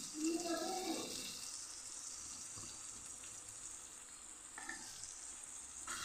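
Okra and tomatoes sizzle in a pan for a Kathiyawadi-style bhinda shak, with a bright continuous frying hiss and a few scraping stirs near the start and middle.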